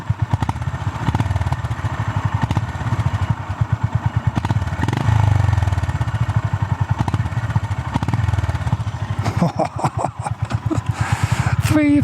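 A Honda GB 350 S 350cc motorcycle engine idles with a deep, thumping exhaust pulse, steady and close, revving briefly near the end.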